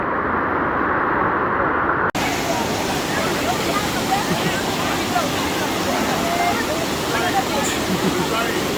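An overflowing river in Dominica rushes loudly and continuously close by, a broad, steady roar of churning water that begins with a muffled stretch before opening up fully.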